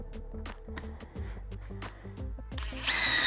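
Power drill set to speed 2 driving a 2-inch drywall screw into lumber, heard as short stuttering bursts of motor and clicking across a few seconds, ending in a brighter, higher whir.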